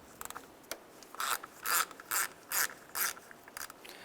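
A ratchet wrench loosens an 8mm battery terminal bolt on a 1992-1996 Ford F-150, giving a string of rapid clicking bursts, about six distinct pulls in a row, close and clear with no talking.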